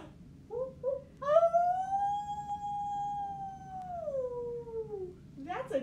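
A child imitates a wolf howl with a voice, a long rising and falling tone held for about four seconds after a couple of short yips, close and clear over a faint background.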